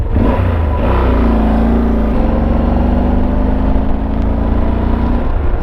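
A Kawasaki motorcycle is heard while being ridden: a loud, constant engine drone and road rumble that rises slightly in pitch, with heavy wind noise and no speech.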